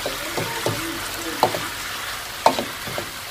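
Courgettes sizzle gently in a pan over low heat, a steady soft frying hiss broken by a few stirring scrapes of a utensil, close and fairly loud.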